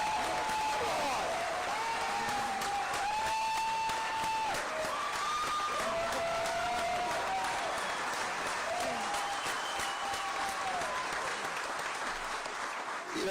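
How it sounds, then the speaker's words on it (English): An audience at a governor's press conference in Pensacola applauds continuously for over ten seconds, a thick steady clapping with voices talking over it. "Give him a round of applause."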